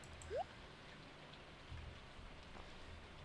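Rain falls steadily in the farming game Stardew Valley, a faint, even patter that carries on alone with a brief game sound near the start.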